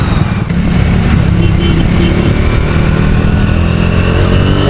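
A Triumph Thruxton 400 motorcycle engine accelerates hard, its loud, close drone rising steadily in pitch over several seconds with no talk.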